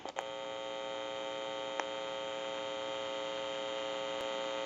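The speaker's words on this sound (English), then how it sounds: "you should be able to hear the hum" A steady electrical hum comes from the amplifier of an old wooden country wall telephone, a constant buzzing drone with a couple of small clicks, close and alone without speech.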